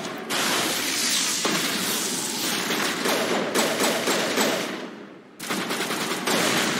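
Sustained automatic gunfire and explosions from the Mass Effect Legendary Edition video game roar almost continuously, a dense loud barrage with a brief gap before it resumes.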